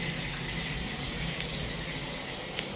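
A bathtub tap runs at full flow, a steady close broadband rush of water with no break and no voices.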